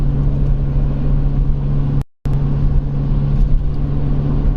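A 2011 Nissan Rogue with a badly worn wheel bearing drives along, giving a loud, steady low rumble and road drone with a constant hum, broken by a brief dropout midway.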